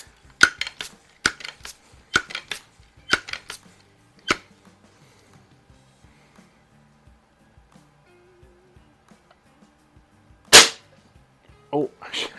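Sheridan Blue Streak air rifle fired at a target: a run of sharp, close cracks at roughly one-second spacing, then a pause with faint clicks and one louder shot near the end.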